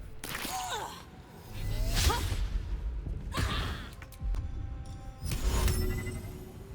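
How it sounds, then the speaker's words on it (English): Fire spell in Baldur's Gate 3 engulfing webbed enemies: repeated whooshing bursts of flame with crackling roar, loud and close, coming in several waves over a low rumble. "I'll set these people on fire too"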